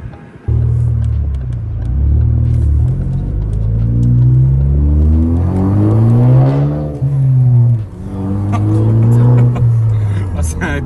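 Ford Focus ST with a full straight-pipe exhaust and 260 horsepower revving hard, a loud booming drone that climbs and falls through repeated throttle blips, heard close up with voices talking underneath.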